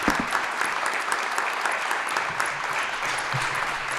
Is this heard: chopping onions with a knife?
no